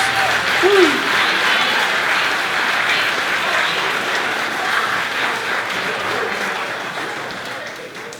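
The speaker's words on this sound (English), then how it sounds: "Huge round of applause." Wedding guests applauding at a reception, a steady, full round of clapping that holds evenly throughout with a brief voice near the start.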